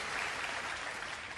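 Faint, steady applause from an audience at a speech, a dense distant patter of many hands continuing without a break.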